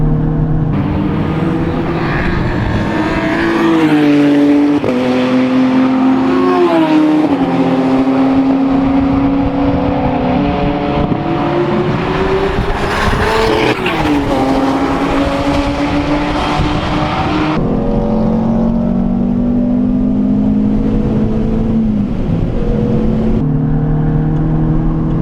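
A Renault Clio RS 182 lapping Donington race track, heard from inside the car as a loud engine revving up through the gears with rising and falling pitch and repeated gear changes, continuous and close with no talking.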